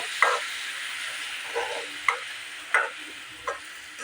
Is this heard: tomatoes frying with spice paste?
yes